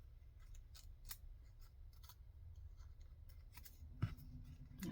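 Scissors cutting paper photo corners for a junk journal, a series of close, quiet crisp snips in an uneven rhythm over a low steady background hum.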